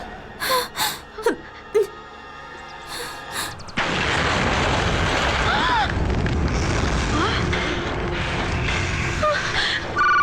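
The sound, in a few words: explosion outside a house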